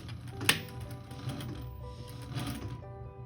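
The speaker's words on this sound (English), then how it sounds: "So I'm just going to sew a little bit larger to make sure I take that in." An automatic sewing machine stitches a seam on a blanket coat, running a steady rapid mechanical patter for a few seconds, fairly quiet and close, then stopping near the end.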